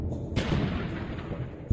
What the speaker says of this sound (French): Ils déclenchent de petites explosions à différents endroits autour du volcan.